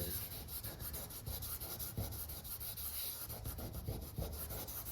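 Soft, rapid rubbing of abrasive cloth over filled holes in a wooden door, a quiet scratchy back-and-forth rhythm continuing throughout without speech.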